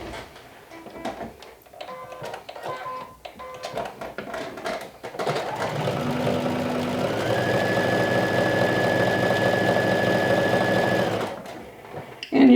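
A sewing machine stitches the pockets of a lumberjack shirt, running in a steady, loud whirring burst for several seconds after some earlier handling clicks and shorter starts, then stopping abruptly.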